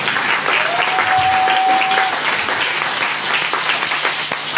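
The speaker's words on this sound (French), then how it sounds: "Acclamez pour le Seigneur." A church congregation applauds during a service, a dense, even wash of clapping from many hands that stays steady and full throughout.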